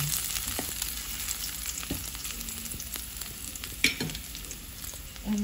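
Ingredients sautéing in a pan for chicken afritada, a steady close sizzle with occasional spatula scrapes and clinks, no voices.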